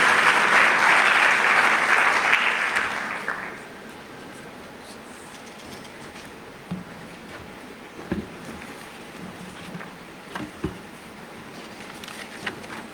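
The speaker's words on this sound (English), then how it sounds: "Round of applause, please." A burst of loud applause at an investment conference in Botswana fades out after a few seconds, leaving a quiet room with scattered soft knocks and shuffles.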